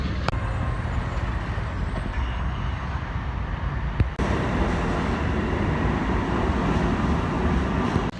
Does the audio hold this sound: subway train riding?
yes